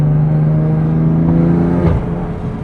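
A tuned, turbocharged BMW F80 M3 CS with an equal-length exhaust, heard close from inside the car, holds a loud, droning engine note under load that drops sharply as the revs fall away.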